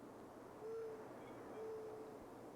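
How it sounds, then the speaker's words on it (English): A soft, low, hollow coo repeated twice at an even pace, faint and somewhat distant over a quiet background hiss, like a mourning dove calling. "Sounds like a mournful dove."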